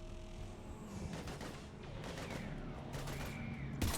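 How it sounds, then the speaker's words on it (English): Gunfire in Mass Effect 3 during a Reaper attack: rapid bursts of shots and crackling fire overlap with a muffled boom near the end, set against a constant battle rumble. "We're taking heavy fire"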